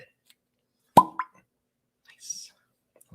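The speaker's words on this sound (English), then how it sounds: "That was a nice little cork pop." A cork pops out of a bottle with a single sharp pop, followed by a short hiss and brief quiet murmuring nearby.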